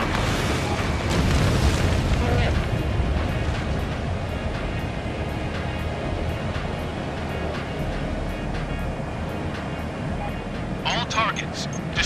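Explosions of destroyed targets in the aerial combat game Ace Combat Infinity, with an EA-6B Prowler over the Alps Air Corridor: dense, rumbling booms under a steady roar of jet engines, with a voice speaking over them.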